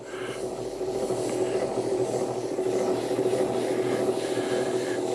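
A wood lathe turns a poplar bowl at a slow 100 RPM, its motor giving a steady, continuous hum with a faint tonal whine and no other sounds.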